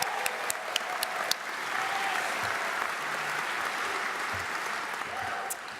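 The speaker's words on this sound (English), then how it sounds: "let's clap for that" A college commencement crowd claps for the graduating class, a few sharp isolated claps at first, then a steady wash of applause that holds and slowly thins toward the end.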